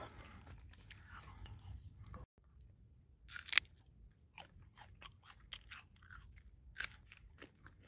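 Fresh yellow Saudi dates bitten and chewed near the mouth in a date garden, soft crunches and wet chewing sounds in irregular bursts, faint and close, with a brief quiet gap early on.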